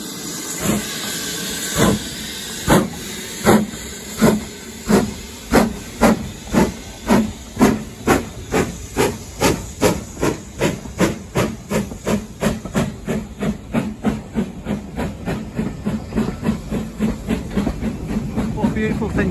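A British Rail Standard Class 9F steam locomotive, City of Leicester, working on a heritage railway, its exhaust beating in loud rhythmic chuffs that start slow and spaced, then quicken into a rapid steady pulse over a constant steam hiss.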